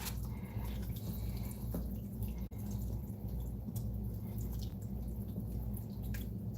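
Water is poured into a pot of pork rinds cooking for a crackling dish, a steady, close liquid wash over a low continuous hum with no voices.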